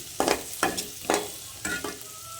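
Tomatoes being added to frying onions in a pan and stirred while cooking a tomato gojju, with about five distinct scraping stirs over a soft sizzle, close and with no talking.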